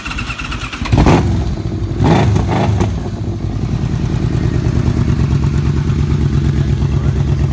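A 2006 Yamaha Royal Star motorcycle cranks with two sharp starter bursts, catches, and settles into a loud, close, steady engine rumble as it pulls away.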